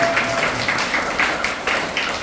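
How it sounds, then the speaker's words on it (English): A short burst of applause from a small group at a building grand opening, steady overlapping claps at moderate level with no voices. "we should clap it up for Taylor"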